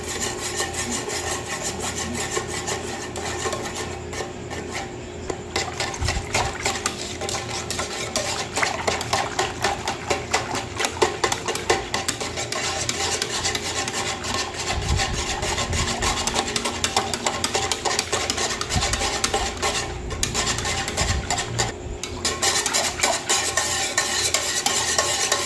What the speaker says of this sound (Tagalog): Then, haluin ng mabuti